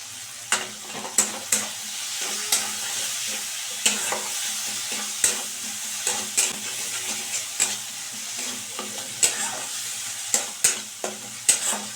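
Fish is stirred into a hot pan of frying masala for a fish bharta, with repeated scraping spatula knocks over a steady sizzle, close up and with no talking.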